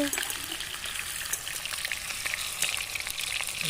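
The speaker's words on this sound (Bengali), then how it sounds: "রাধুনি হেল্পার এখন আলু ভাজতে ব্যস্ত" Potatoes frying in oil at an outdoor Bengali picnic cook-up, a dense, steady sizzle and crackle held close throughout with faint background voices.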